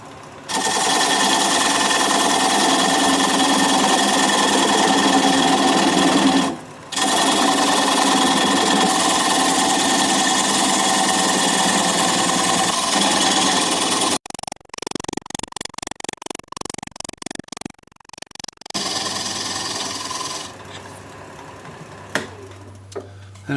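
A standard-grind bowl gouge cuts away the tenon on an oak bowl spinning on a wood lathe at about 600 RPM: a loud, buzzing, continuous cut with one brief pause, then choppier intermittent passes.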